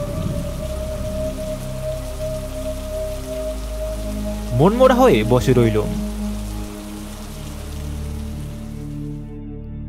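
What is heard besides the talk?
heavy storm rain with lightning and thunder, cartoon effect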